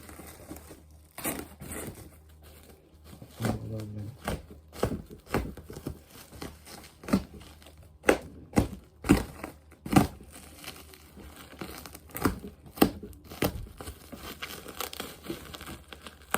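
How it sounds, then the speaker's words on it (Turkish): Packaging for a Hadron VW 9803 steering wheel set is opened close up: tape being pulled and plastic bags crinkling and tearing in irregular bursts of sharp crackles and rustles, with no talking. "Bu şu bantları çekeyim hemen başlatayım. Evet arkadaşlar şu an çıkardım poşetlerini."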